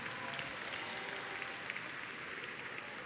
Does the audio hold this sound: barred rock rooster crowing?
no